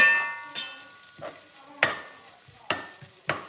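Onions sizzle softly in a pan while a utensil stirs and scrapes, giving several sharp knocks against the pan, close by with no talking.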